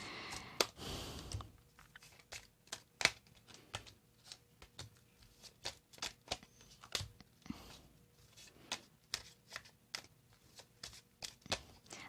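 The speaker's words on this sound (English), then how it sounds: "when I shuffle the cards" Hands shuffle a deck of playing cards in a quiet room, producing a run of soft, irregular riffling clicks and snaps, brief bursts scattered across the clip, close and faint, with no speech.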